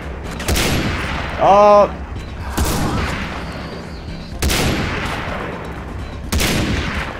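Gunfire in Far Cry 3 bursts out in loud, sharp shots spaced a second or two apart, each with a booming tail. A man briefly exclaims between the shots.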